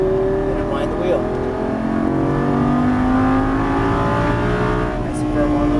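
A Lamborghini Gallardo LP550-2 accelerates on a race track, its engine note climbing steadily in loud rising sweeps from close by, with someone talking over it.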